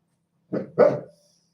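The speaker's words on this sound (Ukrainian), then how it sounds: "по вулиці йде людина, а ти гавкаєш" A dog gives two sharp barks close by, a shorter one followed quickly by a louder, longer one, with silence before and after.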